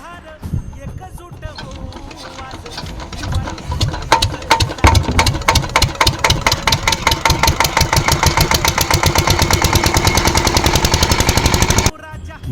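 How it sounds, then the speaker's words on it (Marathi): A tractor engine on a hilltop fort splutters into life, then runs in a loud, steady, rapid chugging rhythm close by before cutting off abruptly near the end. "परत ट्रॅक्टर या ठिकाणी त्यांनी काम करण्यासाठी चालू केलेलं आहे"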